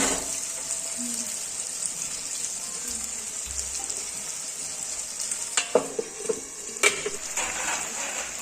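Local chicken meat frying in a pan, a steady close sizzle broken by a few scraping stirs of a spoon near the end, with no voices.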